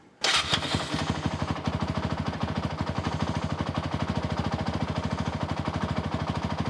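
A Honda TRX 450er ATV engine, fitted with a mesh airbox lid, catches and settles into a fast, even idle, with rapid regular pulses close up and loud throughout.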